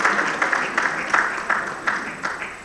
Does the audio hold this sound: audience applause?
yes